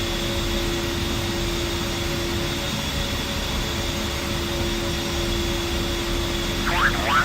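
A jet aircraft engine in DCS World drones steadily while taxiing, giving a loud, constant whine and roar with no breaks throughout.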